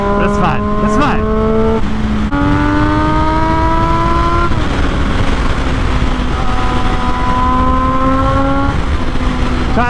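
A Triumph Daytona 675 motorcycle with a damaged, oil-smoking engine, ridden along as the motor pulls hard and rises in pitch, dropping sharply at several gear changes, loud and close over constant wind rush.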